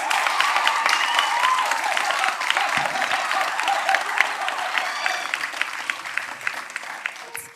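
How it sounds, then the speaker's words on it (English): Audience applause for a young singer at a live televised talent show for kids, dense steady clapping from a large crowd that holds for several seconds, fairly loud and close. "I think she deserves another round of applause."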